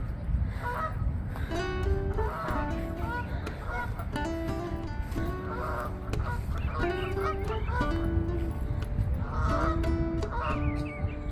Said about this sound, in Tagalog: Ingay ng mga gansa.